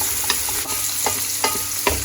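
Pancit noodles with meat are stirred in a hot frying pan. A steady close sizzle runs throughout, broken by several sharp scrapes of the utensil against the pan, with no voices.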